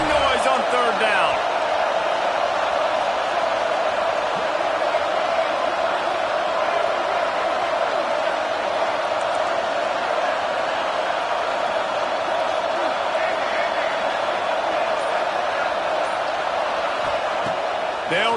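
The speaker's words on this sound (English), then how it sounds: "This dog crowd is off the leash, and they are coming after them, bringing noise on 3rd down." A steady stadium crowd roar on third down in a college football video game against Oklahoma, droning continuously under a commentator's voice.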